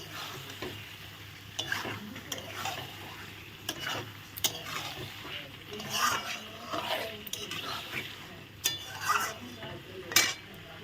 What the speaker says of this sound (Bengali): চিকেনটা দিয়ে আমি ভালো করে একটু কষিয়ে নেবো